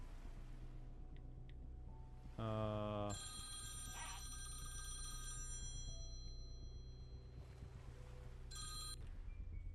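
A telephone rings in a steady electronic burst during a session of the game Eden Crafters, heard close and fairly loud over a low constant hum, with a few further tonal beeps after it.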